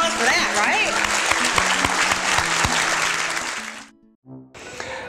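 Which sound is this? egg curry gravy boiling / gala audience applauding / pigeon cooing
gala audience applauding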